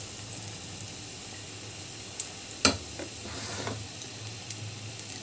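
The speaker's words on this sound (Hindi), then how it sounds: "मैंने तेल गरम कर लिया है, अब ये हम रोल्स डाल देते हैं" Potato pakora rolls frying in hot oil give off a steady, fairly quiet sizzle, broken near the middle by a sharp crackling burst as a roll goes into the pan, then a few softer pops.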